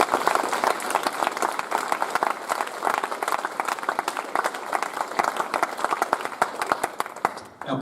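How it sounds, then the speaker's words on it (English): Audience at a Rolleston College Year 10 prize giving applauds award recipients: sustained, dense clapping from a large crowd, steady and fairly loud throughout, with no speech over it. "give a massive round of applause to all the recipients of awards today"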